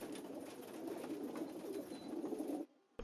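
Racing pigeons coo in a soft, continuous murmur, with several birds overlapping close by before the sound cuts off abruptly near the end.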